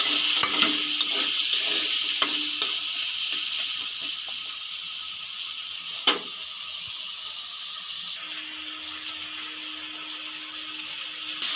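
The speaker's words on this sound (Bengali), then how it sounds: "এগুলো আমি আলুগুলো একটু ভেজে নেব।" Potatoes seasoned with salt and turmeric fry steadily in a pan, a continuous sizzle broken by scraping stirs and a few spatula clicks against the metal, close and without talk.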